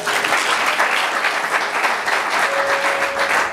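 A church congregation at a Sunday Easter service applauding loudly and steadily, a dense wash of many hands clapping close by, with a faint sustained tone near the end.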